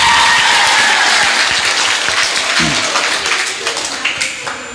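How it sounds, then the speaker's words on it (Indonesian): Loud audience applause fills the room at a religious debate on Sunnah versus bid'ah, a dense burst of clapping that gradually thins and fades, with a brief voice cutting in midway. "Tepuk tangan dulu untuk kita semua."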